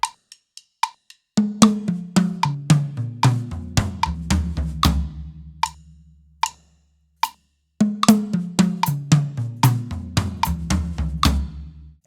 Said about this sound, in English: We play 8th note triplets by moving clockwise again down the toms, and we accent every second note.